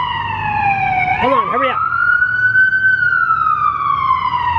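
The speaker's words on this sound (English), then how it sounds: "Ambulance." An ambulance siren wails past on a street, loud and near, its pitch sliding in long sweeps with a short burst of rapid yelps; someone speaks briefly over it.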